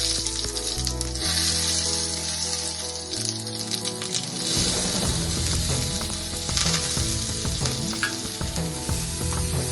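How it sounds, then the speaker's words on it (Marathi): Cumin, mustard seeds, curry leaves and fenugreek seeds crackle in hot oil as a tempering for batata vada filling. A strong, busy sizzle with stirring runs throughout, with steady background music in the first few seconds. "तेल आपलं गरम झालंय, यामध्ये आपण जिरे, मोहरी, कढीपत्ता, जे काही मेथी दाणे जे काही घेतले सगळं घालून घेऊया."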